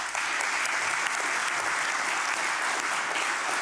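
Audience at the opening session of a metropolitan mobility conference applauds in a steady, even wash of clapping that stays at an unchanging level throughout, with no voices over it.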